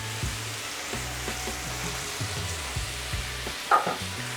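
Prawns frying in oil in a pan give a soft continuous sizzle close by, with occasional light stirring clicks and a slightly louder scrape near the end.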